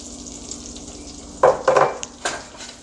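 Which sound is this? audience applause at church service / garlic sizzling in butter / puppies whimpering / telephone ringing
garlic sizzling in butter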